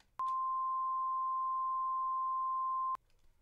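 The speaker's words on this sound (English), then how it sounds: "Now let's just quickly listen to 1048 hertz." A steady 1048 Hz pure tone sounds alone for about three seconds, clean and unwavering, starting and stopping abruptly with small clicks at each end.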